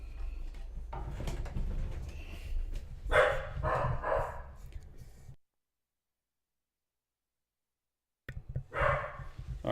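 An agitated, on-edge dog barks in bursts at a moderate distance, with a few seconds of silence before the barking resumes.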